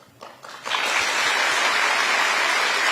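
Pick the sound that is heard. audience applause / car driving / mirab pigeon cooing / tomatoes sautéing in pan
audience applause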